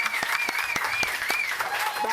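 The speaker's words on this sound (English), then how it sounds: "Round of applause for Governor Doug Burgum." Studio audience applauds Governor Doug Burgum at the close of a morning TV news segment, with steady clapping throughout and voices talking over it.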